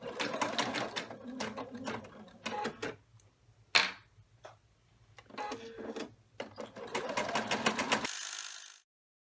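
A sewing machine stitches a fabric triangle coin pouch in a series of quick, close whirring runs broken by pauses and small clicks, with a brief faint voice in between.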